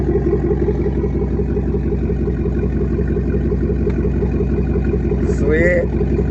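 A 5.3 LS V8 in a Chevy Trailblazer runs at a steady, close, droning idle, with a brief rising whine near the end.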